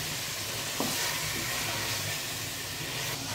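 Mutton for pulao sautés in a pot with a steady, dense sizzle and hiss, and a few soft stirring scrapes come through the continuous frying noise.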